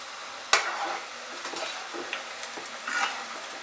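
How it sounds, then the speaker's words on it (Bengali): Small goja sweets frying in oil on low heat, a soft continuous bubbling sizzle nearby, punctuated by a sharp clink at the start and a few light stirring knocks. "ঘুরিয়ে ঘুরিয়ে উল্টে পাল্টে এগুলোকে আমরা ফ্রাই করব"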